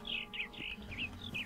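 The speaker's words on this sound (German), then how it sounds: "Ein schwarzer Vogel auf jeden Fall." A black bird calls in Minecraft, a quick series of about six bright, high chirps in rapid rhythm, close and clear over a low background hum.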